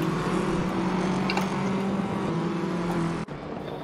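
A Fiat Tipo competition race car engine drones on a racing circuit, a steady loud motor tone heard from inside or nearby, with a brief dip near the end.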